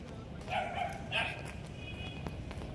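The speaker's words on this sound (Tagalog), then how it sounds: "May aso din pala dito." A dog barks and yips at moderate distance outdoors in a clean cemetery area, with a couple of short yelping bursts that are fairly faint against background noise.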